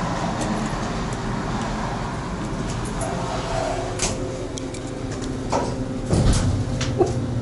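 A faulty Kone KSS 500 hydraulic elevator at a restaurant in Highland Village running, a steady low rumbling hum with scattered clicks and knocks and a heavier thump near the end, heard close.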